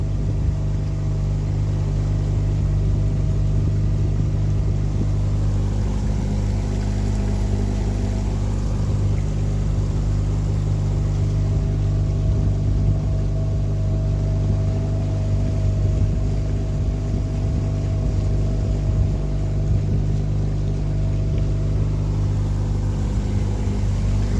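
A boat motors at about 5 knots out of a shallow harbour, its engine giving a constant low drone that stays steady and unbroken throughout, with no other sounds standing out.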